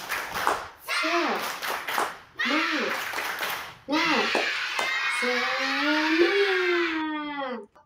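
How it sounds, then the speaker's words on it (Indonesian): Elementary school children stand in a classroom doing a rhythmic spirit clap, sharp hand claps in short bursts mixed with their chanting voices and a teacher speaking, ending in a drawn-out cheer. "Yuk, tepuk semangat."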